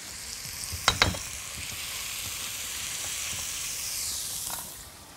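Pepperoni slices fry in a pan with a soft, continuous sizzle, while a couple of sharp scrapes near the start mark the stirring, close and alone without voices.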